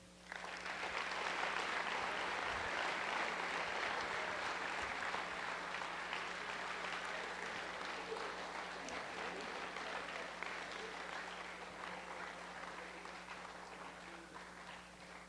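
An audience applauds at a motivational talk: sustained, dense clapping that holds steady for about fifteen seconds and then slowly thins and softens, with no voices over it.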